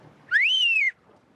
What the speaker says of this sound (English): I'll whistle.